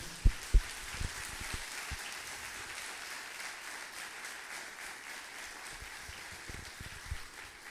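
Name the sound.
congregation applauding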